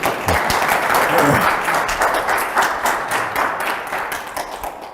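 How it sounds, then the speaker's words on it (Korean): A lecture audience breaks into a round of applause, many hands clapping densely and loudly, with a few low thumps early on and a gradual fade toward the close. "박수 한번 쳐주십시오."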